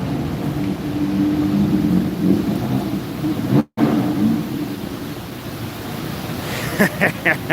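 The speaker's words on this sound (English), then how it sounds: "it's raining, you see?" Rain falls on a Bangkok street in a loud, steady, roaring wash of noise that barely pauses, with a brief dropout partway through.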